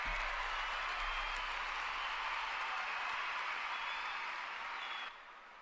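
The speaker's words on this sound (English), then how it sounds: "Cue applause." Continuous applause from a crowd at a gaming convention keynote, a dense wash of clapping that holds steady before dropping off abruptly near the end.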